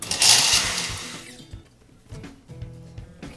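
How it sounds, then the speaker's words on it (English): A blender chops cauliflower into rice-sized bits: a loud whirring burst at the start fades into softer, intermittent chopping and knocking pulses in the jar. "I'm going to throw it in the blender and just chop it up pretty small, just like rice."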